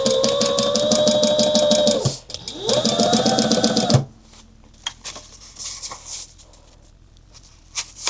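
A sewing machine stitches across the top and bottom of a clutch wallet in two loud, steady motor bursts of about two seconds each, with back-stitching at the ends. Quieter handling clicks and rustles follow.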